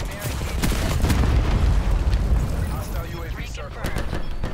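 Rapid bursts of gunfire and booming explosions from the Call of Duty: Black Ops 4 video game come loud and dense, with voices talking over the shooting.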